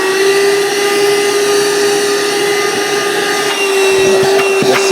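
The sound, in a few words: Vaclife cordless vacuum cleaner running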